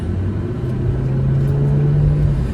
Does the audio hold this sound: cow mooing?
no